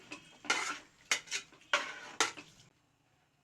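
Scraping and clinking of a utensil against a metal pot while stirring banana flower biryani rice, several strokes in quick succession, close by, then quiet.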